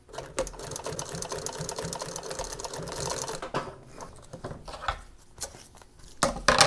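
A sewing machine stitches motorcycle seat cover pieces in a rapid mechanical rattle, running steadily at first and then breaking into shorter, sparser bursts.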